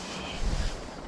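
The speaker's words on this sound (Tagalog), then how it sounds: "Lakas ng hangin." Strong gusting wind buffets the microphone outdoors beside a van in Colorado, a steady low roar that swells louder midway through before easing back, with no speech.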